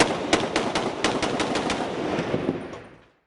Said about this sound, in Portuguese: A troca de tiros foi registrada nas primeiras horas do dia.